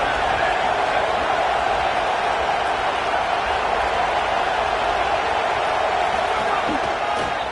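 A large crowd at a college football game roars in a steady, dense wash of cheering and noise that fills the whole stretch without letup.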